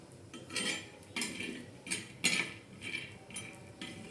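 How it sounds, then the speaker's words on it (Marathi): Peanuts dry-roast in a pan while a utensil stirs them in repeated rhythmic scrapes and rattles, roughly one stroke every half second, close and clear with no talk. "असे चांगले खरपूस असे शेंगदाणे भाजून घ्यायचे"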